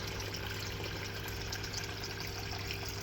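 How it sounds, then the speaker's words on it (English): Water poured into a container set up to hold koi pond probes and keep them from drying out, a steady close trickle and splash with a low pump-like hum beneath, no talk. "So I'll just put a bit of water in there,"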